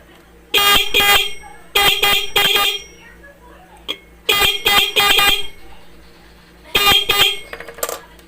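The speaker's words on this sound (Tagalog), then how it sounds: "mukhang okay na yung tunog niya" Loud motorcycle horn honks in short bursts, mostly in pairs, after repair, separated by pauses with quiet background noise.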